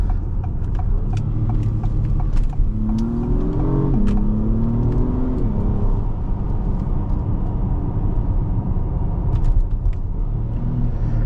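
Engine of a 2022 Acura MDX Type S with a ten-speed performance automatic, heard from the cabin as it accelerates hard. The engine note rises steadily, dips sharply at a gear change, then climbs again beneath a constant road rumble.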